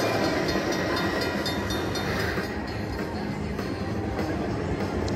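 Slot machine bonus game train effect, a steady rumbling, clattering rail sound running loud and continuous throughout, with a faint voice over it.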